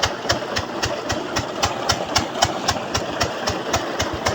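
A farm sprayer engine, last run when spraying paddy, idles steadily with evenly spaced thumping firing pulses and a rattling mechanical clatter, close and fairly loud with no voices.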